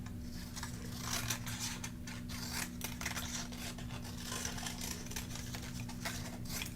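Scissors snip around a paper card template for a snowman skater Christmas card, giving a steady close rasping, rubbing texture that runs the whole time over a faint low hum, with no talking.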